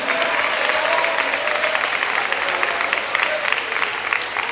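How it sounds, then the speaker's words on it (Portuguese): A church congregation claps loudly and continuously in praise during a service, a thick wash of applause mixed with voices calling out underneath. "Desocupem as mãos, batam palmas e glorifiquem ao Senhor Jesus"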